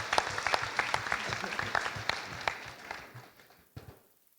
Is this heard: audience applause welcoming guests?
yes